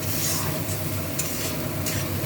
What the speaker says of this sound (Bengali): এবার এটা ভালো করে একটু কষাবো